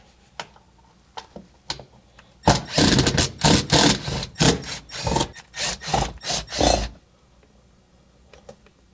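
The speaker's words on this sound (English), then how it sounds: "We got 4 screws there that we need to take out." Screws being backed out of the automatic gear shifter plate on a 1966 Mustang, a dense run of close, loud ratcheting clicks in bursts of several seconds, with a few scattered ticks before and after.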